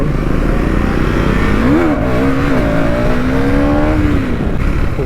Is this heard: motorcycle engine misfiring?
yes